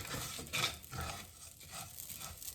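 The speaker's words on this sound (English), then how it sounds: "So I'm going to continue to stir that around" A spoon stirs rice browning in a hot pan for homemade Rice-a-Roni: soft scraping strokes over a low sizzle, with a few brighter clinks against the pan, close and quiet.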